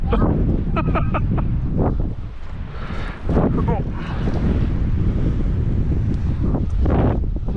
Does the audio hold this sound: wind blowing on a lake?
yes